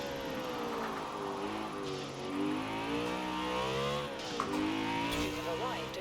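A BMW M3 GTS in Forza Horizon 4 on a winter road, its engine note rising and falling with throttle and gear changes, fairly quiet throughout.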